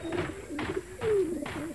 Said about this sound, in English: the plane was infested with pigeons